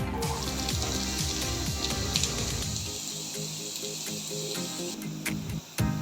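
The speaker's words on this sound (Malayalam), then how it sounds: "എണ്ണ ചൂടായി കഴിയുമ്പോൾ നമുക്ക് അരിഞ്ഞ് വെച്ച പപ്പായ ഒന്ന് വഴറ്റിയെടുക്കാം" Chopped papaya sautéing in hot oil gives a steady, dense sizzle that runs continuously, easing slightly partway through, with no one speaking.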